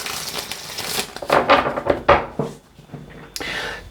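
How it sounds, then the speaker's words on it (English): A deck of cards shuffled during a tarot reading: a few quick riffling bursts and soft snaps close by, with a short flick at the end and no speech. "One last shuffle."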